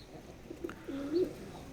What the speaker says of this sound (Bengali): এটা নর কবুতর, কিন্তু হালকা মাদির মতন একটু কোনো আওয়াজ করে